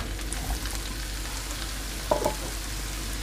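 Chopped onions fry in oil in a pan with a steady soft sizzle, and a few brief clinks or stirring sounds break through near the end.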